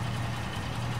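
Car engine idling steadily in Construction Simulator 22, a low, continuous rumble close by with no talking.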